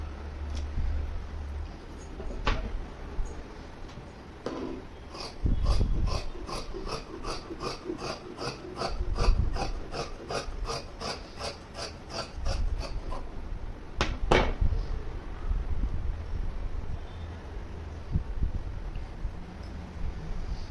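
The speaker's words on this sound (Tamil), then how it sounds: "இந்த மெஷர்மெண்ட்டுக்கு ஏற்ற மாதிரி இந்த கிளாத்தை நம்ம கட் பண்ண போகிறோம்" Scissors cut through cloth for a six-panel maxi dress, a long run of rapid, evenly spaced snips that continues for several seconds, close and fairly loud, framed by occasional handling clunks and rustles before and after.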